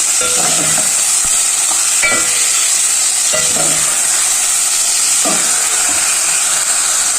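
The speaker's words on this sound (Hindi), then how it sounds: "हम कीमे को भून लेंगे" Minced meat sizzles steadily in a hot pan with garlic, ginger and garam masala while a spoon scrapes and stirs it every second or so, a continuous frying hiss underneath.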